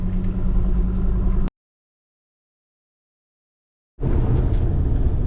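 A 4WD engine drives on beach sand: a steady, loud mid-range roar with a brief lift in revs. It cuts to complete silence for about two and a half seconds, then the same close engine drone returns.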